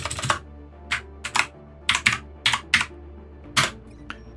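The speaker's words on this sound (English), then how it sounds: "we're just using our keyboard and mouse as usual and just entering our information that way." Typing on a computer keyboard while setting up an Xbox 360 emulator on a PC: clusters of crisp, close key clicks in irregular bursts, loud and clear with no talking.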